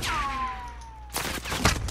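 A sniper rifle fires in Call of Duty: Modern Warfare, one sharp, close report followed by a short ringing echo amid game noise and a whistling tone.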